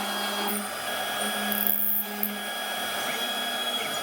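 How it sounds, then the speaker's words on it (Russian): A CNC 1419 milling machine drilling holes for miniature machine-vise fasteners, a steady high-pitched whine with a brief change in tone midway, fairly quiet and without talk. "Сначала сверление отверстий."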